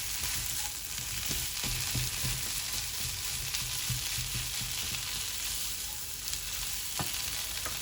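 Roasted masala with a few chilli flakes, for aloo samosa filling, cooks slowly in a pan, giving a steady soft sizzle with faint stirring scrapes and occasional ticks throughout.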